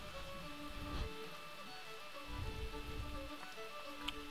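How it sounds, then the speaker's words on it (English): Rain falls in the castle-building strategy game Stronghold 3, a soft, steady hiss running throughout, quiet and continuous beneath sustained game music tones. "It's raining."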